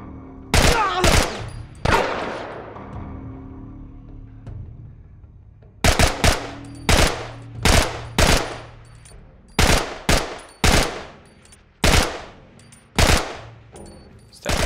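Gunfire in The Last of Us video game, with an opening pair of shots, a pause with a fading tail, then a rapid series of loud, sharp bursts in an uneven rhythm.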